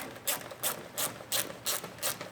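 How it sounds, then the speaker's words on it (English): Ratcheting 4mm Allen key tightening the top bolt of a Rokblokz mud flap mount on a 2022 Chevrolet Silverado 1500 ZR2, six crisp clicking bursts at a steady, even rhythm, close and clear. "now we can switch over to the 4mm Allen key and go ahead and lock the top down"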